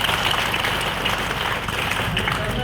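A group of trainees clapping loudly for a height-rescue team at a power transmission tower training session; dense, steady applause fills the short moment with a murmur of voices mixed in.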